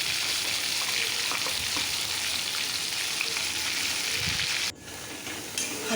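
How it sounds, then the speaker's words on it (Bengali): Onion, green chilli and ginger paste with garam masala sizzles loudly and continuously in a pan for shrimp malai curry, with faint stirring scrapes, before the sizzle abruptly drops to a quieter hiss near the end. "ওই যে পেঁয়াজ কাঁচা লঙ্কা আদা যে পেস্টটা ছিল ওটা দিয়ে ভালো করে একটু কষে নেব।"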